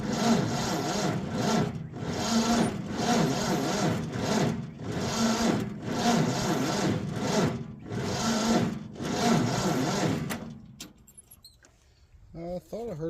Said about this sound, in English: I thought I heard it try to take off there for a second.